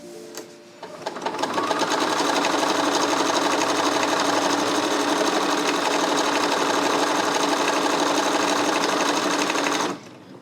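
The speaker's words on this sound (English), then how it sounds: "Next, we're going to sew our buttonholes." Sewing machine stitching buttonholes on a hoodie, a steady, fast, continuous whir that starts after a brief pause and runs evenly for about nine seconds before stopping abruptly.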